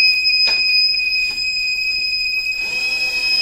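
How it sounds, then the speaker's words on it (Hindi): A faulty Microtek power inverter, fed about 12 volts, gives off a steady high-pitched electronic beep tone that stays continuous and fairly loud. Faint soft knocks from handling the unit can be heard under it, and no one talks. "ना ही मतलब इसमें ओनली बीप आ रही है, LED कोई ग्लो नहीं कर रही।"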